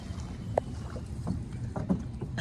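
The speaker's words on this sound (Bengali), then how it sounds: "আসলে নৌকাটা এগোচ্ছে না, আস্তে আস্তে নিয়ে যেতে হইতেছে।" A wooden rowboat is pushed slowly through dense floating grass on a water-lily wetland, giving soft continuous swishing and rustling with a few sharper knocks and splashes close by, and no talk.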